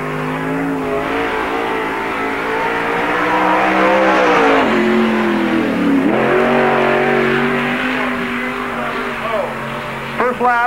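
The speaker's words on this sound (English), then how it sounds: "On the track now in the number 8 car, Sonny Fiddling out of Kirksville, Missouri." A NASCAR Busch All Star Tour stock car laps Park Jefferson Speedway in 1997, its engine a loud, continuous roar that rises and falls in pitch as it revs through the turns.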